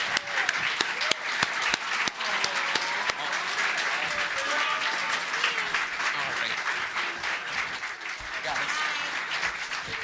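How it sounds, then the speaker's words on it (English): Audience applause fills a voice actor panel at a convention, steady dense clapping throughout with crowd murmur and voices underneath. "more applause for those who had to leave us"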